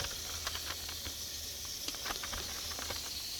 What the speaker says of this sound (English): you want to let it just get real hard and come to a boil